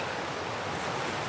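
A deep, fast-flowing river rushes close by as a steady, dense wash of noise, loud and unbroken with no voices.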